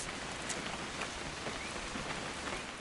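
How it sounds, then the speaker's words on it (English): Steady rain in the video game What Remains of Edith Finch pours down continuously, a dense, even hiss of drops with occasional slightly louder splatters throughout. "It's gonna rain the whole weekend, isn't it?"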